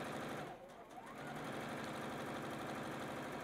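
A sewing machine stitches a rectangle of fabric in a fast, even mechanical chatter that dips briefly near the start, then runs on steadily and fairly quietly, close by.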